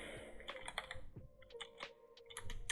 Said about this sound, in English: So let's type here admin,